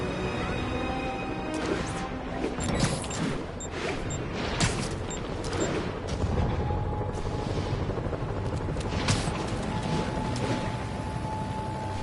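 Gunfire in Ultimate Spider-Man: sharp bursts of shots and crashes over a dense rumbling background, with mechanical whirring and scattered impacts throughout.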